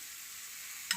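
Oil sizzles steadily in a pan around a semolina pancake, a faint continuous close hiss ending in a brief sharp tap.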